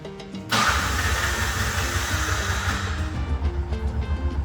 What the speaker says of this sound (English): The tuk-tuk with the new carburetor.